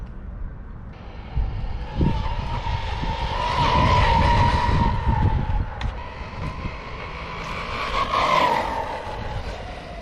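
A radio-controlled car runs at full throttle on a Turnigy LiHV Rapid 8400mAh 100C LiPo, its motor whine loud and continuous for about ten seconds, rising and falling as it passes, with tyre and gravel noise underneath.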